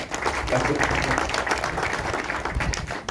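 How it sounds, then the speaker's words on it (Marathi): Applause from a crowd at an outdoor political rally in Bankot, with dense clapping held at a steady level for about three seconds. "एकदा त्यांच्याकरता जोरदार टाळ्या होऊ द्या"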